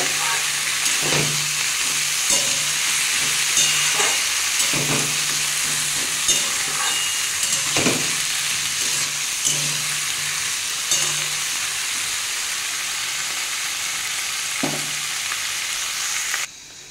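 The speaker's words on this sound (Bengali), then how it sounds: "এগুলো আমি একটু লাল লাল করে ভেজে নেব" Capsicum, tomato, eggplant, potato, carrot and egg fry together in a pan with a loud, continuous sizzle, broken by periodic scrapes and knocks of a stirring spoon, then cut off abruptly at the end.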